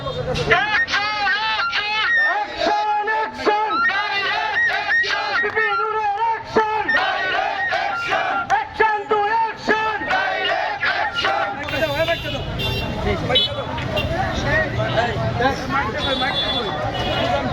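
A protest crowd at a sit-in demonstration in Kishoreganj chants slogans in loud rhythmic call-and-response bursts, with one leader's voice and many voices answering, close and continuous, and a vehicle-like rumble joining near the end.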